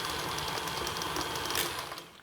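A stand mixer gives molasses spice cookie dough a final quick blast, a loud dense whirring rattle that holds steady and then winds down at the end, close and alone.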